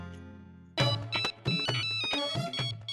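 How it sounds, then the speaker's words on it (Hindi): A mobile phone ringtone bursts in after a brief quiet lead-in, playing a bright repeating melodic pattern loudly and close until the end. "चिंटू का फोन।"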